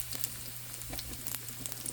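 Chicken schnitzel frying in a pan gives a steady, close sizzle with fine crackles and small pops running evenly under a faint low hum, and no one speaks.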